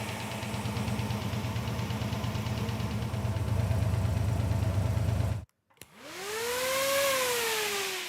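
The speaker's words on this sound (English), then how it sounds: "You can hear it revving up a little bit or faster. That's because it's happier with the mixture" A Gasser Chevy engine idles steadily and close after a mixture adjustment, then cuts out briefly and revs back up into a smooth, rising hum.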